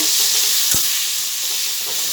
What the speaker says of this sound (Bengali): পটলগুলো বাজা হয়ে গেছে